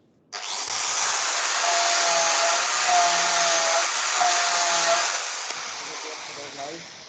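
Power grinding with 120-grit abrasive in a factory workshop: a steady, loud, broadband whirring roar starts abruptly and holds for several seconds before easing slightly, close up with no talk.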